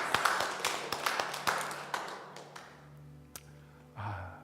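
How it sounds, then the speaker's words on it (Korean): Congregation applauding during a Sunday church service, a burst of scattered claps fading out over several seconds, followed by quieter room sounds and a brief low tone near the end. "Let's give them a round of applause."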